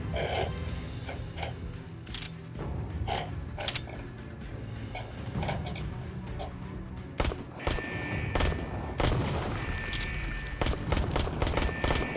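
Gunfire from a sideways-held gun in the video game Ark: repeated sharp shots in irregular bursts throughout, loud and close, mixed with mechanical clicks and creaks.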